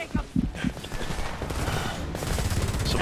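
Video game gunfire in Homefront, a dense fusillade of rapid shots aimed at the player, with a few sharp louder cracks early on and then continuous heavy firing throughout.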